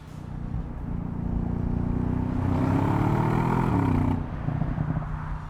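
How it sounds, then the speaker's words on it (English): A 2016 Audi S6 with a 450-horsepower V8 accelerates, its engine note rising steadily into a strong, loud roar and holding before dropping off sharply as the throttle lifts. "now we got the V8, and we already feel that as soon as we push the throttle just a little bit, the car is boosting forwards"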